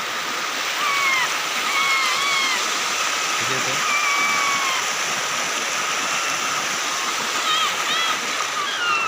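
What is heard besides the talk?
river water flowing in the hills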